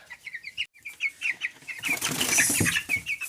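Broiler chickens flap their wings in short, repeated bursts, joined by clucking and rustling that grows busier and louder toward the end.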